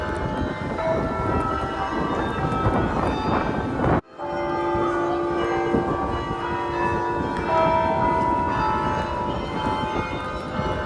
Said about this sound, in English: just follow the sound of the church bells